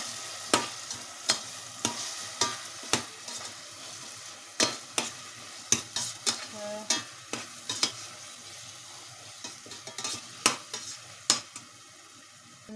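Ginger-garlic paste for a chicken curry fries in a pan under a constant sizzle, punctuated by repeated sharp scrapes and taps of a spoon stirring against the pan, close and clear with no talking.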